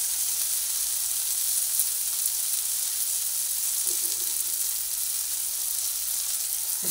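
Diced potatoes frying in hot oil in a pan for a ridge gourd curry, a steady close sizzle with a faint scrape of stirring near the end, no talk.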